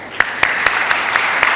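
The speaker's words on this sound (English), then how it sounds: "A round of applause, please." Brief clapping at a Karachi Literature Festival 2012 talk: about six sharp, evenly spaced claps over a soft murmur of the room.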